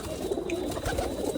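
Pigeons cooing in a loft of about a hundred kept birds, soft low coos repeating close by with a faint background hum.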